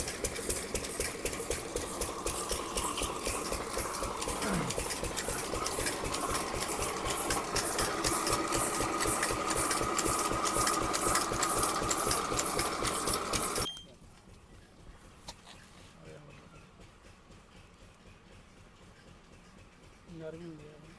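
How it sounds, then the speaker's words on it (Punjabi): A close, loud engine chugs with a fast, even rhythm like a running generator, then abruptly drops away to a much quieter background. "ਆ ਜਨਰੇਟਰ ਚੱਲਦਾ ਹੋਇਆ"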